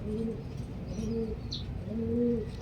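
A racing pigeon cooing in its loft, three soft, low coos close by, with faint chirps in the background.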